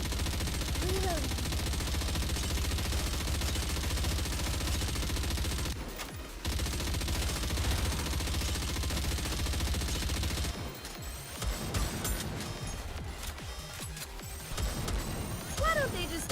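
Sustained rapid gunfire in the video game Nikke, a dense continuous barrage with a brief break and a clattering burst near the end, with game voices mixed in.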